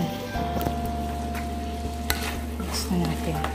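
Chicken sopas is stirred in a cooking pot, with a utensil scraping and knocking against the pot over a steady low simmering sizzle, close up and without talk.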